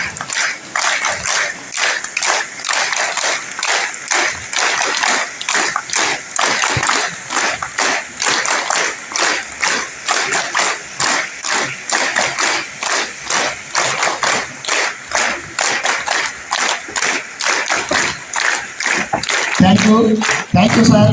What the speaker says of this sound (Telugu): ఒకసారి అందరూ యాజమాన్య వారికి గట్టిగా చప్పట్లు కొట్టాలి